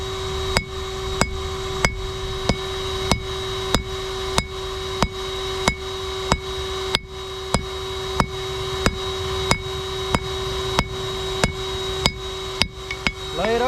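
A hammer rings on hot steel over an anvil while an S hook is forged, about twenty sharp metallic strikes in a steady, evenly spaced rhythm, close and loud with a ringing tone and no talk.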